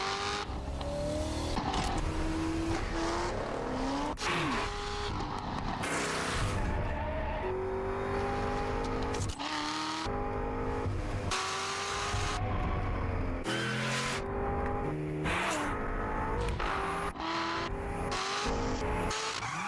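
Race cars in the Gran Turismo PSP video game roar and rev continuously at close range, with engines accelerating, tires squealing and skidding through corners, loud and dense throughout with no talking.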